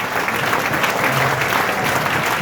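Loud, dense applause from a classroom crowd welcoming a student, continuous clapping at even strength throughout with scattered crowd noise underneath.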